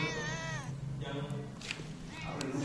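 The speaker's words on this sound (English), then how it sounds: "This little kitty over here, hey, she has 3 kittens." A mother cat with three kittens in a rural Sumatran village meows in a drawn-out, wavering call close by, then gives a couple of shorter cries, with a person speaking softly around her.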